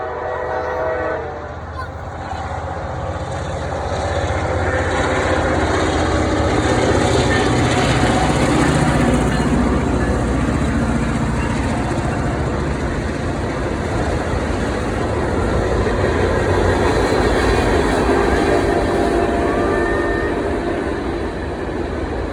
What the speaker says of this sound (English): we were really close to the tracks, safely of course, when a train went by, and I got a little video of that